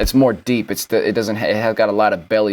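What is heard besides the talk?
No distinct noise like a dog, phone or traffic.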